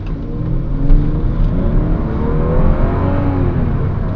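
Engine of a 2004 Lexus GS 300 accelerating on the road, a steady broadband drone with faint rising harmonic whine, heard from inside the car throughout with no talking.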